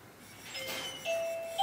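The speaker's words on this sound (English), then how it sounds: "Yep, doorbell's going." A doorbell chimes twice in a shop where convex edge shears are being sharpened, with clear ringing tones that sustain over quiet room noise and no talking.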